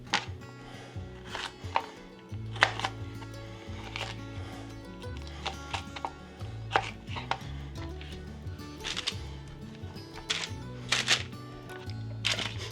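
A knife cuts through garden peppers on a board, giving a steady series of crisp taps and chops close by, with soft rustling in between.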